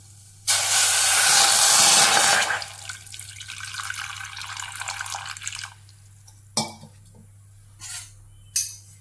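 A pressure cooker on a kitchen stove lets out a loud, steady steam hiss for about two seconds. Softer hissing and a few short bursts of steam follow.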